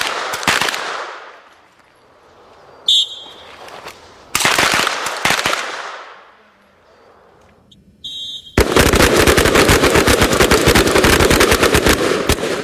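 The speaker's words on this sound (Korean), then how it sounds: "기관단총을 쏘고" Submachine gun fire on a special forces shooting range: short separate bursts of rapid shots, then a long sustained roar of continuous automatic fire, loud and close, with pauses between volleys.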